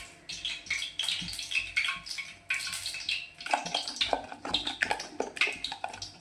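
Water is poured into banana flower batter while cooking crispy banana flower 65, heard as close, splashy bursts of trickling and pouring with no voices.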